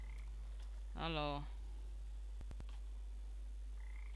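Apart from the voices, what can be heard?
frog croaking in video game Papo & Yo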